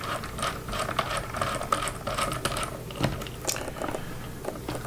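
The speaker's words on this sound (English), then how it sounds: "I'm using a Husky precision screwdriver." Small clicks and ratcheting ticks from a Husky precision screwdriver backing out tiny screws, steady and close with a faint hiss behind, no talking.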